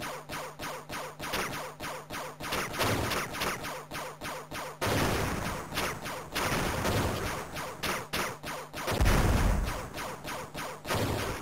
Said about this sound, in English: Bombs, bombs.